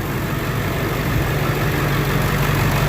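Truck engine idles steadily after a 4R100 automatic transmission rebuild, a loud, even low rumble with constant mechanical whir and no speech.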